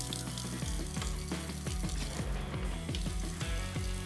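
A faucet runs steadily into an undermounted stainless steel kitchen sink in a new-construction home, giving a continuous close splash and rush of water with no talking.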